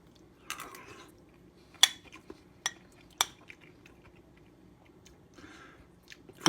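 A spoon clinks against a bowl of homemade ground beef and rice soup, with several sharp utensil taps and soft chewing close by in a quiet kitchen, no talking.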